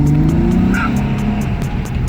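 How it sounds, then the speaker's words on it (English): Acura TL, a 2004-2008 model fitted with a new cold air intake, with its engine droning steadily and revving loud and close throughout, no talk over it. "time to do a little video of the throttle response."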